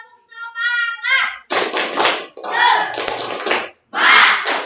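Children doing a classroom spirit clap chant, with rhythmic claps and group chanting in short bursts separated by brief pauses, near and loud, preceded by an adult voice.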